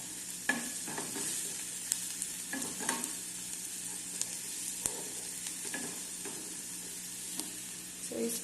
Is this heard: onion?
yes